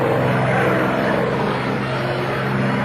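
At an airshow demonstration, a P-51D Mustang with its liquid-cooled piston engine and propeller drones loudly and steadily as it flies past, a continuous roar with no voices.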